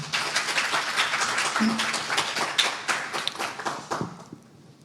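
Loud audience applause at a digital manufacturing conference fills the hall, with dense, sustained clapping that fades out near the end.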